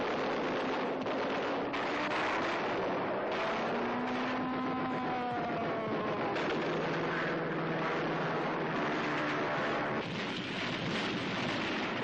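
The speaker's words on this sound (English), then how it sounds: "Strafing fighters add finishing touches to the intensive combined bombardment." Wartime newsreel soundtrack of strafing fighter planes and an intensive combined bombardment, a dense continuous roar of aircraft engines and blasts filling the whole stretch without a break.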